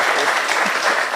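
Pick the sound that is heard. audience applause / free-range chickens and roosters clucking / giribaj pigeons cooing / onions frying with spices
audience applause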